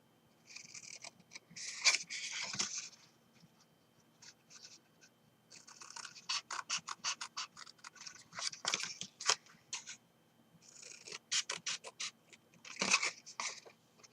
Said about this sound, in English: So just cut away all your excess.